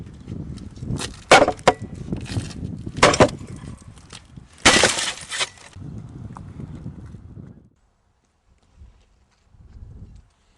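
Double laminated glass being struck and broken through, a series of sharp cracking impacts and crunching bursts, some loud and close, trailing off into quieter scraping and silence.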